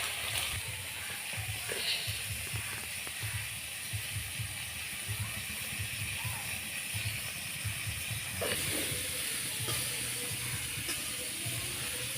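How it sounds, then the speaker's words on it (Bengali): Fish coated with turmeric and salt fries in oil, a steady close hiss and spatter that runs throughout over a low, rhythmic rumble. "মাছটা ভাজা হচ্ছে"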